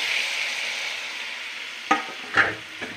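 Small pieces of pumpkin tipped into a hot pan for a thoran, giving a steady frying sizzle followed by a few sharp clattering thuds as the pieces land and are stirred.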